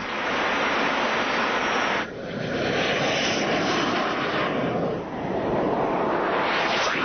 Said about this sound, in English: The airplane's fully aerobatic, and we can do all types of loops and rolls, fly upside down